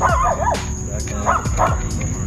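A dog barks and yips repeatedly at a door nearby, several short sharp barks in an uneven rhythm, with a steady background hum and no clear talk.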